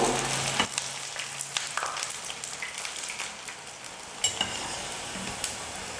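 Vermicelli pakoda dough frying in hot oil, a steady broadband sizzle with occasional stirring clinks and bubbling bursts, close and fairly loud throughout, no talking.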